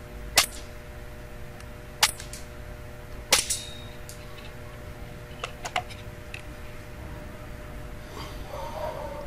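Airsoft 0.20 gram BBs striking an ESS Rollbar sunglasses lens, three sharp cracks spaced over a few seconds followed by fainter ticks and clicks, close and alone against a quiet room.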